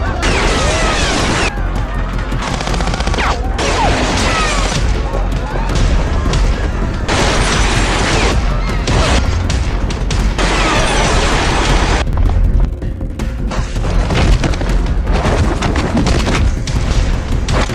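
A dense, continuous barrage of booming blasts and rapid gunshots, loud and chaotic, with clattering debris and scattered voices mixed into the din.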